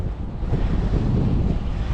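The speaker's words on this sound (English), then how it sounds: "Wow, it's windy." Strong wind buffets the microphone in a continuous low, rumbling roar, with gusty swells and no voices.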